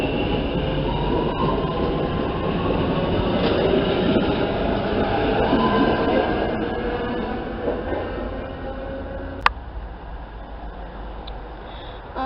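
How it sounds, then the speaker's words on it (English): A passenger train rumbles steadily through a station platform, with a broad continuous roar and faint wheel squeal, fading slightly toward the end after a sharp click. "And about to pass through on platform number 1, we have an unidentifying train."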